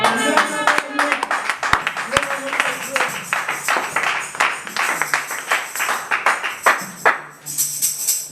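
A church congregation claps and cheers for the Lord in lively, uneven bursts, with a voice speaking over the applause.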